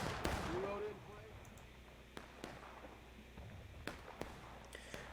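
A musket volley fired in a Civil War video game, a crack of shots followed by scattered distant reports and pops across a noisy battlefield, with shouting voices mixed in.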